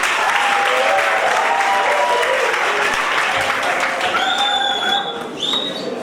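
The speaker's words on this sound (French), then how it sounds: "Encore des applaudissements." Guests at a civil wedding ceremony in a town hall applaud continuously for six seconds, a loud dense clatter with a few whistles and scattered voices mixed in.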